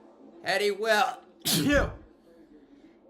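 A single sharp sneeze bursts out close to the microphone after a few spoken words during a NASCAR truck race broadcast.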